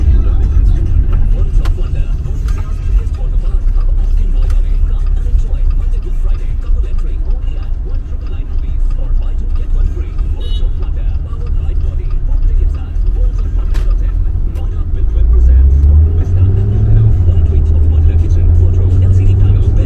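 A 1.4-litre turbo petrol engine hums steadily inside a car on a test drive, a constant low drone with a rise in revs near the end, while people talk over it.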